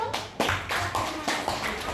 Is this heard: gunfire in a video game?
no